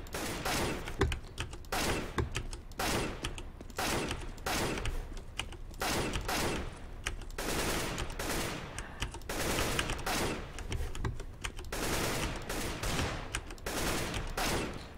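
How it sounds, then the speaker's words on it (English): Video game gunfire from a weapons mod, loud rapid shots in dense bursts separated by brief pauses, continuing throughout with mechanical clacks between volleys. "Gun."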